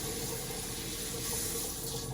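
Cold water pours steadily from a kitchen tap for making dumpling dough, a dense, constant close rush with no pauses and no talk over it.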